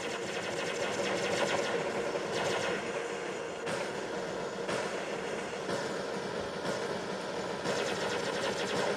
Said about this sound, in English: this Falcon keeps firing